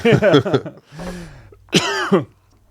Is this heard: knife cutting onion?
no